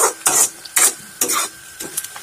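Onions half-frying in a pan for a homemade local chicken curry, stirred in several distinct scraping bursts over a soft sizzle, close and fairly loud.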